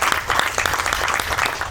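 Close, lively applause from a small audience at a one-year anniversary gathering, a brief stretch of distinct, rapid hand claps at fairly loud, even level without speech.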